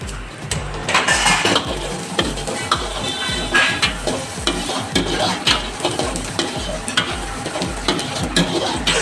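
Cashews fry in ghee in a dhaba kitchen pan, a loud steady sizzle broken by rhythmic scraping and stirring strokes of a metal ladle, with clinks of cookware and no speech.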